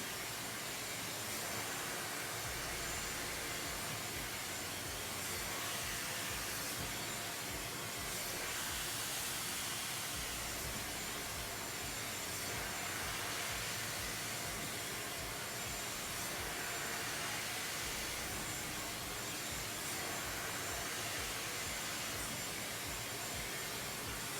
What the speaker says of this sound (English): You don't ever want to just use the hot end of the blow dryer